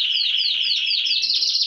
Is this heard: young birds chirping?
yes